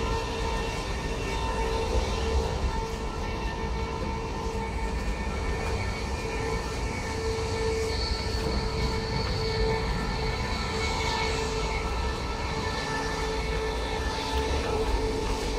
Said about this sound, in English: Now passing us on our left is an LNER Class 91 set on a service to London King's Cross.